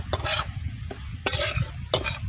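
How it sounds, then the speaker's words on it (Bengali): Rice flour and semolina are stirred and dry-fried together in a pan. Three distinct scraping strokes repeat at steady intervals, close and fairly loud, over a low background rumble. "তিনটাকে একসঙ্গে আমি ভেজে নেব এবার এটাকে নেড়ে নেব"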